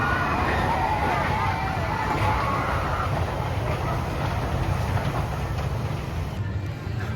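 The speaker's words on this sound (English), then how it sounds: "There you go, there goes the Mine Train." The Runaway Mine Train roller coaster at Alton Towers rumbles past with a steady loud rolling roar, its cars clattering along the track, while a crowd murmurs in the background.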